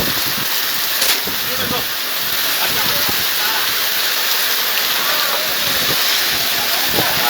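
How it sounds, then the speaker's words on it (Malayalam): Heavy summer rain with strong wind pours down as a loud, dense, continuous hiss close by, with a few faint knocks and gusts under the steady downpour. "എന്തായാലും ശക്തമായ മഴയും കാറ്റും അനുഭവപ്പെട്ടുകൊണ്ടിരിക്കുന്നു"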